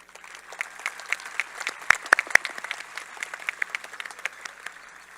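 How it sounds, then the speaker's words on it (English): Scattered applause from a graduation audience honoring parents, with individual claps clearly separated and a few sharp, close hand claps standing out over moderately soft, uneven clapping. "Let's give them a round of applause."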